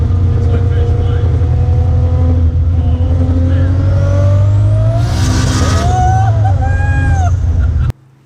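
A turbocharged Nissan RB-series engine pulls hard at full throttle in second gear, a loud, close, droning roar climbing steadily in pitch with a rising whine and a brief surge near the end before cutting off abruptly.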